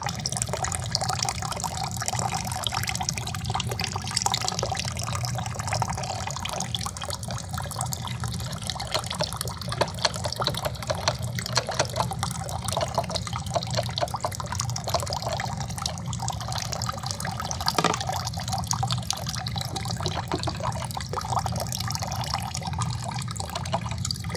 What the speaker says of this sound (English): So I ran a little bit of water.